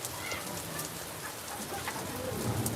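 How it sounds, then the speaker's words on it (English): Rain falls steadily outdoors in Scotland, a soft dense patter of drops on surfaces, fairly faint and continuous with some scattered louder hits. "I've not seen it raining in Scotland for ages."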